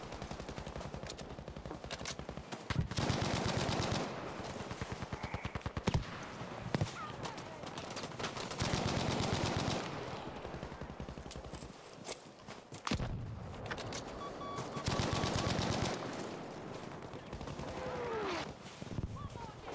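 Bren machine gun fire in Battlefield V comes in repeated loud bursts of rapid automatic shots separated by quieter gaps, with game ambience and faint background sounds between volleys.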